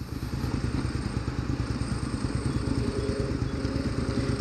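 A Ducati 1198 sport motorcycle engine runs steadily and loudly nearby, a continuous throbbing, pulsing rumble with faint clatter that holds for the whole stretch.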